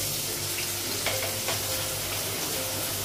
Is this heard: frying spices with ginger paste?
yes